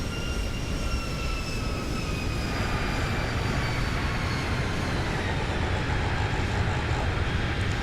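Airliner landing in the X-Plane flight simulator, with a continuous loud roar of rushing air and engine noise across the whole stretch and faint high engine whines drifting downward, no talking.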